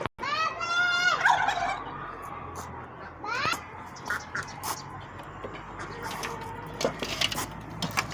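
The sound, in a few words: turkey gobbling while eating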